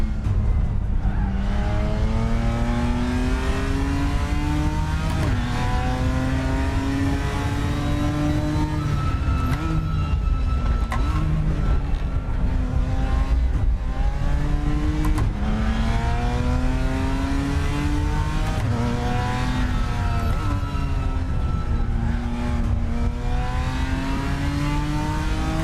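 A race car engine in the RaceRoom racing video game revs steadily and loudly, climbing and dropping in pitch through repeated gear changes, with no talk over it.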